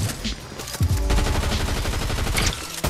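Sustained gunfire in the Fortnite video game, a fast run of loud repeated shots that lasts nearly three seconds with a few sharper cracks.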